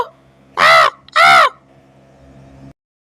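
A cartoon crow gives two loud, harsh caws in quick succession, close up, followed by a faint low background hum before silence.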